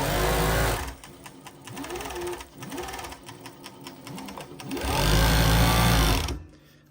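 A Juki MF7523U auto flatlock sewing machine stitches a cover seam in loud mechanical bursts, a fast buzzing run at the start and another near the end, with quieter clattering between them.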